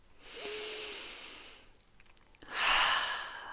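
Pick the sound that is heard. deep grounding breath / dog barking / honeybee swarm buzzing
deep grounding breath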